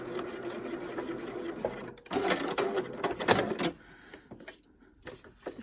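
Sewing machine stitching a basted zip seam, a fast rhythmic mechanical chatter that surges louder in the middle then slows and fades to quiet, close to the machine.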